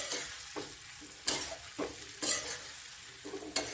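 Fried okra masala being stirred in a pan, a soft steady sizzle broken by several sharp scrapes and clinks of the spoon against the pan at irregular intervals, close and fairly quiet.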